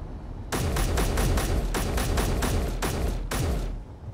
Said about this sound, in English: Yeah, the gunshots are mine.